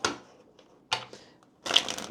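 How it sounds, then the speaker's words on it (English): A deck of tarot cards being shuffled in three quick, close riffling bursts separated by short pauses, the last burst the loudest and densest. "Let's go ahead and get a shuffle in here."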